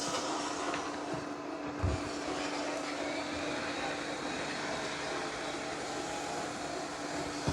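A Roborock Curv 2 robot vacuum cleaner runs with a loud, steady broadband whirring rush that stays constant throughout, with a couple of faint bumps.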